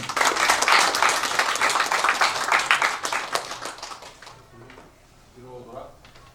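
Hearty applause from the audience at a certificate ceremony for those who passed the evangelist licensing exam, dense and lively at first, then thinning and fading out before a person starts speaking.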